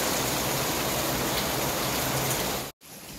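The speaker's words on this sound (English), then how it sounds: "when that first downpour hit, the water was freezing" Heavy rain pours down in a loud, constant hiss, then cuts off abruptly for a moment before the downpour resumes.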